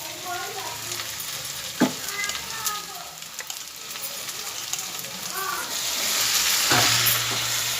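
Chicken pieces frying in hot oil with browned onions and masala, a continuous crackling sizzle that grows louder and fuller toward the end, with a couple of sharp clinks and a voice heard faintly.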